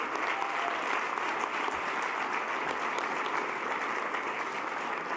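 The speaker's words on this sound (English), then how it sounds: "if you'd please join me in a round of applause for our Executive Director, John Lafferty." A large audience at an awards dinner gives sustained, even applause for over five seconds, a full, close wash of clapping that holds steady throughout.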